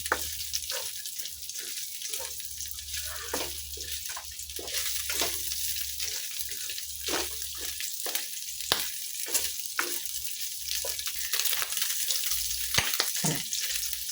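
Steady bright sizzle of sautéing in fat rendered from meat, a dense continuous crackle running alone and close throughout, with occasional stirring knocks.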